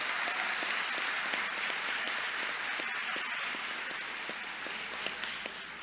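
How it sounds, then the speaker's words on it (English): A summer graduation crowd gives a long, even round of applause for parents and family members, many hands clapping steadily in a large room, slightly distant and unbroken by speech. "Let's give our parents and family members a big round of applause"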